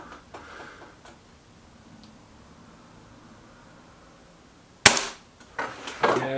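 Air rifle shots from a Kral Puncher K and a BSA R12 SLX at a target shoot: after a quiet stretch one sharp close crack lands, then a few quieter snaps and clicks follow.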